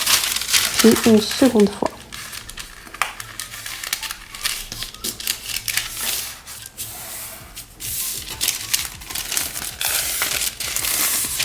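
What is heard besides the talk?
folding squares of baking parchment paper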